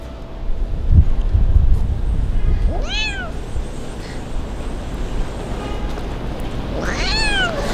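An abandoned kitten cries on a cold, rainy street under a roof shelter, giving two loud, near, plaintive meows a few seconds apart over steady rain and wind noise, with a brief rustle early on.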